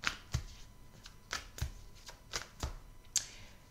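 Belline oracle cards being shuffled by hand in a quiet room, with crisp riffling swishes and soft slaps repeating roughly every half-second across the whole stretch, close and moderately loud.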